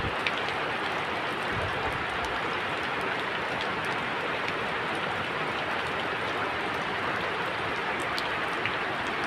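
Steady rain falls throughout, a dense even hiss of drops pattering on surfaces, constant and fairly close, with no voices.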